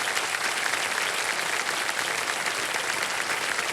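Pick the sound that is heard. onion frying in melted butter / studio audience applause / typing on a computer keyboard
studio audience applause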